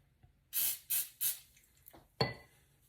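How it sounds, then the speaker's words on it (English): A can of high-yield canola oil pan spray gives three quick hissing bursts in a quiet kitchen, followed by a small clatter and a sharper knock. "So we're going to get our pan spray."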